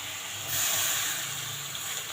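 A splash of water hits a hot pan of fried bottle gourd, sending up a loud, steady steam hiss that swells after half a second and then holds, close by, with no talk.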